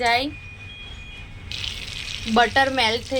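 Butter melts in a kadai, a soft broadband sizzle rising about halfway through and continuing steadily as a person talks at the start and end.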